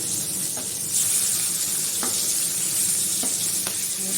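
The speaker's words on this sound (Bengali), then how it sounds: "ভেজে নিই ভালো করে কড়া করে তারপরে আবার আসবে মাছটা উল্টি দেবো এখন" Pieces of rohu fish fry hard in hot oil to a crisp finish, giving a steady close-up sizzle with a few sharp pops and crackles throughout.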